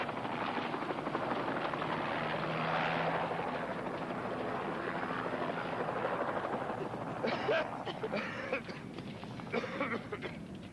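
A helicopter drones continuously with a throbbing rotor chop, loud and close, briefly joined by higher bleating-like tones near the end.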